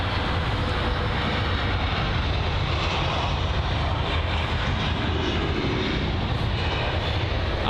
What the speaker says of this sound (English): a BA aircraft there that's just about to touch down